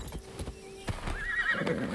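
A horse in the video game Assassin's Creed Shadows trots with clip-clopping hooves, then lets out a clear whinny, all heard fairly close with no talk over it.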